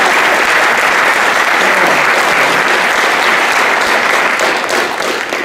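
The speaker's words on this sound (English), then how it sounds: "You are, in fact, the first crowd to clap at that last one" An opening-ceremony crowd applauds a guest speaker, a dense, loud, continuous wash of clapping from many hands that tapers slightly at the end, with no talking over it.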